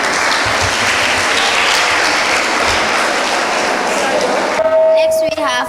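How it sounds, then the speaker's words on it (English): An audience at a children's podium contest in Gambia claps loudly and steadily for several seconds, then the applause gives way to a brief tone and other noise. "Please give her a round of applause."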